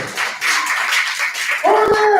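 Continued clapping from a poetry open mic audience welcoming a poet, scattered hand claps of moderate loudness, with a cheering or whooping voice rising near the end.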